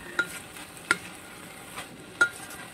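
Yakisoba noodles with Spam and vegetables are stirred in a hot pan, a low sizzle running beneath a few sharp scrapes and taps of the utensil.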